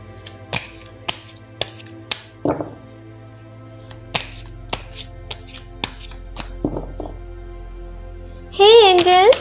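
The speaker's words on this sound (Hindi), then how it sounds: "तो चलिए पहले ज़रा कार्ड्स को शफल कर लेते हैं।" Tarot cards are shuffled and tapped, giving a run of sharp, crisp clicks and snaps in irregular rhythm, close by. A voice rises briefly at the very end.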